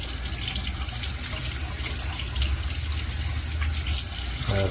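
Tap water runs steadily from a faucet to wet a shaving brush before a head shave, a continuous close gushing splash that shifts slightly near the end.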